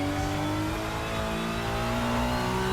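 A racing car's engine revs hard and steadily during a burnout in a racing game, holding a loud, sustained, droning pitch that creeps slowly upward.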